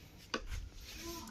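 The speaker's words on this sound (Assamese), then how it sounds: "আমি আলু কাটি আছো" Potatoes being chopped with a knife in an outdoor kitchen: one sharp chop stands out near the start, followed by soft rubbing and handling noise against a low background rumble.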